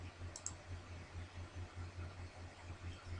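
A computer mouse clicks while a new menu item is added, giving a string of soft, regular clicks over a faint steady hiss, close and alone.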